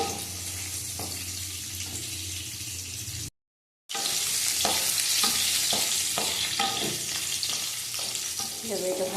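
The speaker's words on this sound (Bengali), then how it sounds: "এটা ভালো করে ভেজে নেব দুই তিন মিনিট ভেজে নেব" Cauliflower frying in a pan for a cauliflower roast, a dense, bright sizzle close by with repeated stirring scrapes, briefly cut by a short silent gap before the hiss resumes strongly, without any talking.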